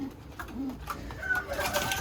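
A blue bar racing pigeon hen coos softly nearby, giving a few low, throaty coos against light background noise, with no talking.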